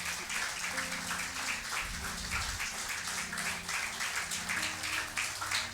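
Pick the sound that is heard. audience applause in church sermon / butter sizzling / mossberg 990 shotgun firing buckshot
audience applause in church sermon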